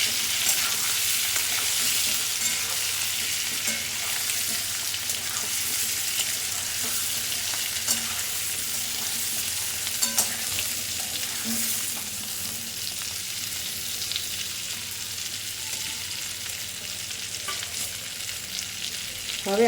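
Stuffed brinjals fry in a kadhai of hot oil with mustard seeds, ajwain and turmeric while being stirred, a continuous close sizzle with intermittent spoon scrapes and clanks, no voices.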